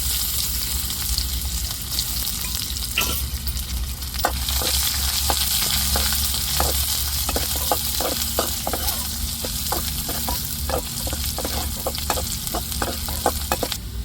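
Shallots crackle and sizzle in hot oil with cardamom, cinnamon, star anise and cloves for an egg curry, a steady frying hiss broken by repeated sharp pops and spits, close and alone without any voices.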